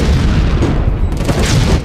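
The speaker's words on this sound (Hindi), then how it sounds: "दूसरा धमाका" A bomb blast from a serial explosion attack in Ahmedabad. It is a loud, dense boom that rumbles throughout, with no speech.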